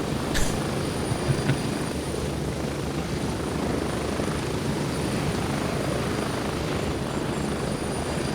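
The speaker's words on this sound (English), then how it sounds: "That's my helicopter there? That's the one I should have been on." A helicopter in the video game Gray Zone Warfare gives a steady, loud rotor and engine drone that holds evenly for the whole stretch.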